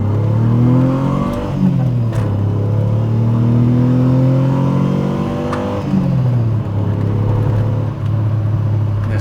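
An Alfa Romeo V6 transplanted into a BMW E30 325iS revs repeatedly, its loud, close engine note rising and falling through several sweeping pulls with a steady deep rumble underneath.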